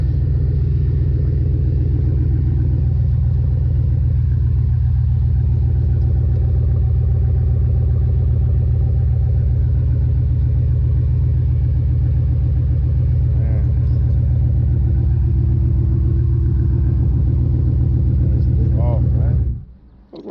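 A Chevrolet 6.2 LT1 V8 from a Camaro SS, Corvette Z06, Monte Carlo SS and Cobalt SS lineup, starting cold, with a loud, steady, deep exhaust rumble throughout that cuts off abruptly near the end.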